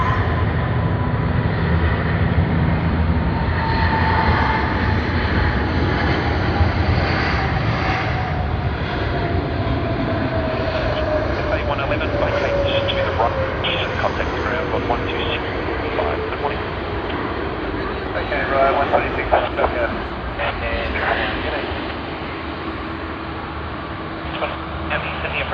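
Cathay Pacific flight CX111, an airliner, arriving at Sydney Airport, its engine roar steady and sustained with a slowly falling whine, loud and continuous under wind noise throughout.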